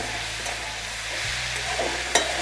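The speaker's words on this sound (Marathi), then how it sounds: "भेंड्या आपल्याला चांगल्या हलवून घ्यायच्या फुलच गॅस राहू द्यायचं" Okra with onion and tomato frying over a high flame, a steady close sizzle with soft stirring scrapes and one sharp clink of a utensil near the end; no voices.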